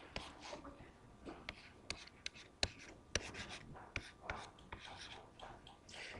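Pen or pencil writing out an algebra equation on paper, with soft scratchy strokes and a few sharp taps, close and quiet, with no talking.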